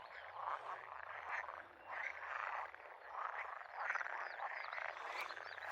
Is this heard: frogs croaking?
yes